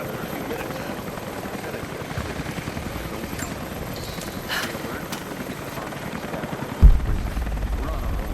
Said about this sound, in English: That was Constantine's chopper.